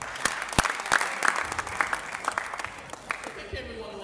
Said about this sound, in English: Please, a round of applause for ourselves.